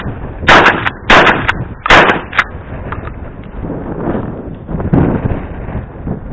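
Several shots from a pump shotgun boom in quick succession near the start, each a sharp loud blast, with quieter handling and rustling noises afterward.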